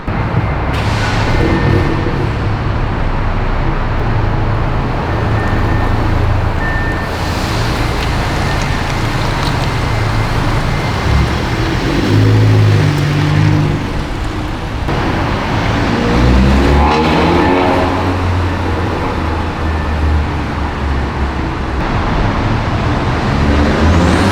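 A car engine with an aftermarket ECS Tuning downpipe rumbles steadily nearby with road noise, rising and falling as the vehicle passes more than once.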